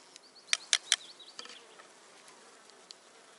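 Young honeybees clustered on a hive frame in an apiary, a faint close buzzing with a few sharp louder bursts early on as individual bees fly near, then a softer hum.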